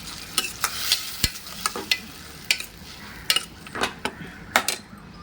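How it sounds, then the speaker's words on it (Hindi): Ground turmeric, red chilli, coriander powder and masala paste are stirred in a hot pan while cooking shrimp masala, with a steady sizzle and repeated sharp scrapes and taps of a spoon against the pan, close by and without talk. "इसी के साथ में जो ड्राई मसाले, हल्दी, लाल मिर्ची, धनिया पाउडर और ये पिसा हुआ मसाला, मसालों का हम अच्छी तरीके से भुनाई करेंगे।"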